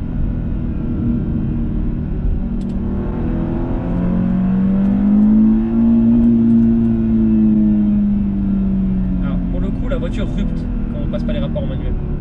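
A 2017 Audi S3 accelerating at full throttle, its engine note rising as a loud, steady drone from inside the cabin.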